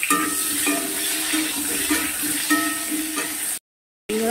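Medium potatoes, cut into chunks, fry in oil in a pan for a Bengali patol and katla fish curry, giving a steady close sizzle with light stirring scrapes, then a brief dropout to silence near the end.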